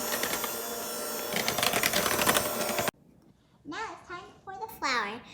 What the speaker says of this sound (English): Turn on the mixer and start mixing.